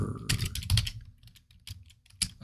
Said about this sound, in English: Oh, you can see me typing it.